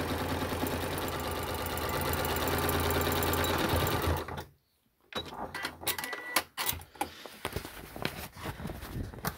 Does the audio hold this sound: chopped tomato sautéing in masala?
no